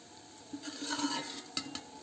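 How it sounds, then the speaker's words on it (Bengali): Chopped onion with whole spices and a pinch of cumin is stirred in hot oil for a mutton curry, a soft sizzle under scraping spoon strokes, with a couple of sharper clinks against the pan near the end. "পেঁয়াজটা যতক্ষণ না লাল লাল হয়ে ভাজা হচ্ছে, তেলের মধ্যে নাড়তে হবে।"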